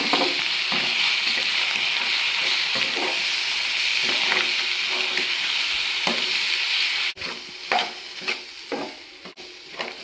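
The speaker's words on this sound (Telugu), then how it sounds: "ఇప్పుడు మనం రోట్లో దంచుకున్న పచ్చడి ఉంది కదండి, అది ఎగ్స్లో వేసి వేయించాలి" Green chili chutney ground in a stone mortar fries with eggs in a pan, a continuous close sizzle broken by stirring and scraping strokes, growing more uneven toward the end.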